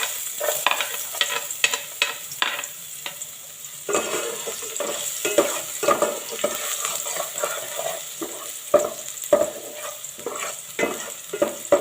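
Garlic sautés in a little oil for ginisang monggo, a steady close sizzle broken by frequent scraping and clacking strokes of a spatula stirring in the pan.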